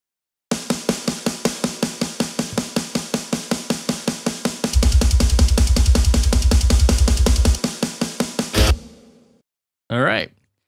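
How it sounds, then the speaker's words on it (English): Processed snare drum from a death metal mix fires in a fast, steady string of sharp, cracking hits. A deep low rumble swells underneath midway, then the hits stop and a short final burst follows after a pause. "a snare that sounds like this."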